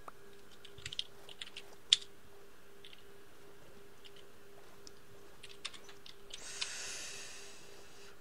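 Computer keyboard keys clack in sparse, scattered taps during a Minecraft survival session, with a brief burst of hiss near the end and no talking.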